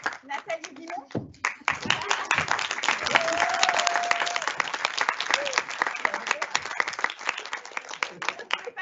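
Audience at a school exhibition evening in Collège Marsan applauds steadily for about nine seconds, dense clapping from many hands, with a brief dip near the start and a faint voice or whistle cutting through midway.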